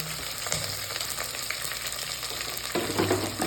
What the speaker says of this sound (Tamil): கொஞ்சம் ஃப்ரை ஆகட்டும்.